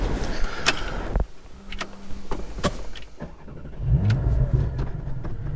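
A Porsche 718 GT4 drives past on a road, its engine note swelling as it accelerates, with a few sharp knocks and a brief whine in between.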